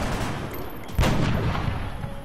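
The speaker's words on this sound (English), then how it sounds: "we get a reaction shot with our ready for anything sniper" A sniper's reaction shot fires in XCOM: Long War, one sharp broadband crack near the middle, close and loud over a busy, noisy game-battle background.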